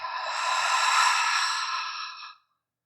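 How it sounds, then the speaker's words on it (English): A long, deep exhale through the mouth during a seated cross-legged breathing exercise, one steady breathy sigh of about two and a half seconds, close and clear, then silence. "exhale through the mouth"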